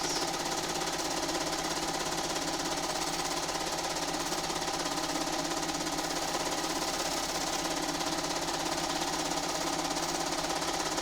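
A sewing machine quilts a quilt with a continuous, loud, fast-stitching mechanical chatter that holds steady from start to finish.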